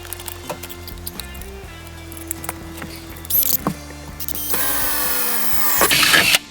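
Cordless drill boring mounting holes for a new A/C unit on a boat, heard in several short whirring bursts that build to a longer, louder high-pitched run near the end, alone without talk.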